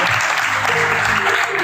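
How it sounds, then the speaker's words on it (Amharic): A church congregation applauds a gospel singer, a loud, dense wash of clapping from many people close by, with low murmuring voices underneath. "ስለሱ ማጨብጨብ"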